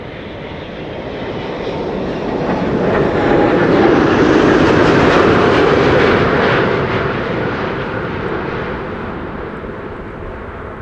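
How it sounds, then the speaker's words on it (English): Emirates Airbus A380, flight 147 from Dubai, landing at Schiphol Airport, a loud broad jet engine roar that swells as the aircraft passes and then slowly fades, with no talking. "This is the Emirates flight 147 arriving from Dubai."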